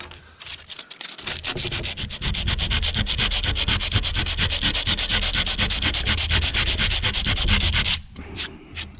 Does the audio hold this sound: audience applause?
no